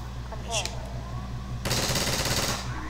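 Rapid automatic gunfire from the video game Half-Life 2 erupts in a dense, loud burst partway through. A brief effect sound comes before it, over a constant low hum.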